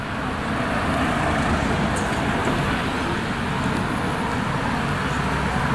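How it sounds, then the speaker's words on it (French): Steady street traffic with cars passing on a town road, a continuous broadband rumble and hiss of engines and tires, fairly close and unbroken throughout. "Là on a une voiture à nous."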